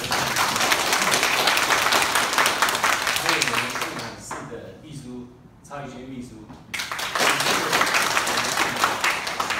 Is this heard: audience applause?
yes